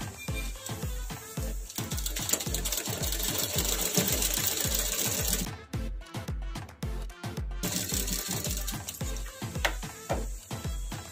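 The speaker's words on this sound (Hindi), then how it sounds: "इसे हम अंदर की साइड से डाल के यहाँ पे स्टिच कर देंगे।" A sewing machine stitches a fabric shopping bag, its fast steady mechanical chatter running close and loud, briefly stopping midway, then resuming.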